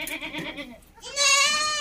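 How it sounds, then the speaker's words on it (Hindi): A goat bleats on a goat breeding farm in Beawar, Ajmer, Rajasthan, where a doe has just given birth. Wavering, harmonic calls sound close and grow into one loud, sustained bleat near the end. "एक और बकरी साईं गॉड ब्रीडिंग फार्म पर ब्याई है"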